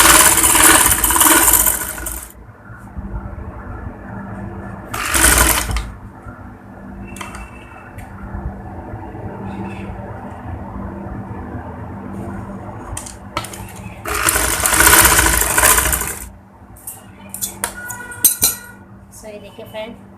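A sewing machine stitches a straight seam on a boutique-style designer kurti, its motor whirring in a few loud bursts separated by quieter stretches of handling and faint clinking.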